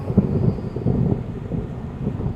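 Storm wind sound effect: a low, rumbling gust blows steadily for about two seconds with no voices.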